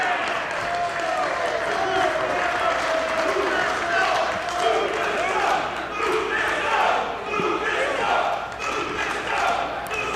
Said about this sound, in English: This crowd coming alive for Lufisto with the WSU Championship on the line.